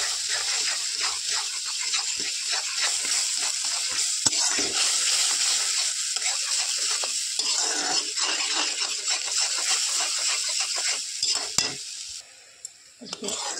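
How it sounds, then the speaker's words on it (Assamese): Chutney with food colouring and salt bubbles in a pan while a spoon stirs it. Close sizzling and gurgling go on steadily, with scraping stirs throughout, then grow quieter and patchier toward the end. "উতলি আছে"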